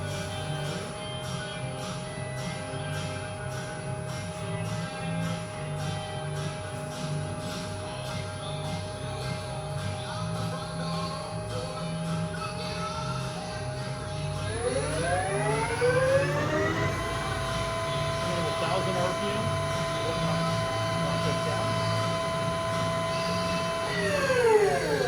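Milltronics ML28 CNC lathe from 2003 turning at about 250 RPM, a steady mechanical hum with faint whine. Midway it shifts into rising and falling tonal sweeps as the machine changes speed, heard close with no talking.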